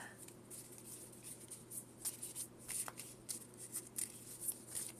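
A deck of Pokémon trading cards riffled and shuffled by hand, a quiet run of quick rapid flicking and snapping card sounds close to the microphone, with no talking.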